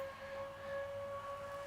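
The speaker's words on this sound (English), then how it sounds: "Oh, there goes the siren." A civil defense siren sounds at a distance, one steady sustained wail that holds a constant pitch with slight swells in loudness, heard alone with no talking.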